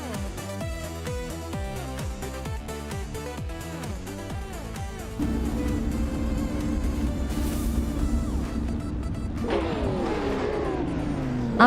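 Ferrari and Porsche race cars tearing around the Nürburgring in a sprint race, engines revving hard through rapid gear changes, then a dense roaring pack passing close with a sudden higher-pitched surge near the end.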